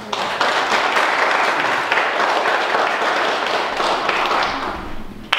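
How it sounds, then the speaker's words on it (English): Sustained applause and clapping from a crowd at a high school graduation ceremony, broad and steady for about five seconds with no talk over it. "Y'all give them a round of applause."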